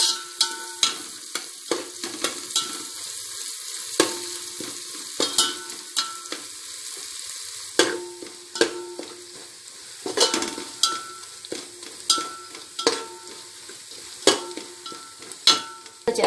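Curry leaves, bay leaves and pandan leaves sizzle in hot frying oil for a Kerala-style Thalappakkatti chicken biryani, giving a close, crackling fry with sharp spatters and stirring scrapes scattered irregularly throughout.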